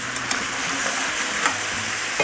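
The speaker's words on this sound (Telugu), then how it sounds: "అలాగే కొద్దిగా ఉప్పు వేసుకొని బాగా కలుపుకొని నూనెలో వేపేయాలండి." Crab pieces fry in hot oil with turmeric and salt, giving a steady loud sizzle broken by a few sharp stirring scrapes.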